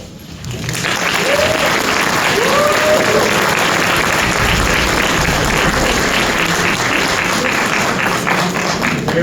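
An audience bursts into applause at a legislative day event, the clapping rising quickly and holding as a full, steady roar of many hands, with a few voices underneath.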